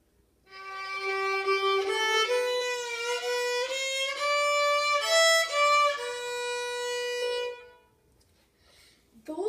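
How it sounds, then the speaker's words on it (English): The opening two bars of the melody Long, Long Ago played as a clear sequence of sustained notes stepping up and down in pitch, steady and alone, ending with a longer held note before fading. "Those are the two beginning bar lines of Long, Long Ago."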